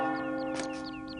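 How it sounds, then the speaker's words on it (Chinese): A distant bell rings with a sustained, faint metallic tone that lingers and slowly fades, heard alone without talk. "这时候，他听到远处的钟声。"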